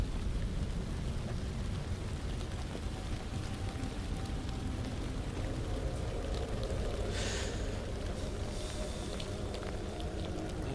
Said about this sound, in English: Keeps sounding like the rain is fading away, but then it comes back.